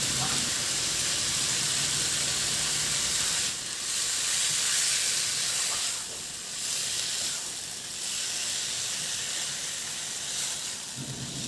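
Pork sautés in its own rendered fat, giving a steady loud sizzle and hiss throughout with slight dips in intensity as it is stirred.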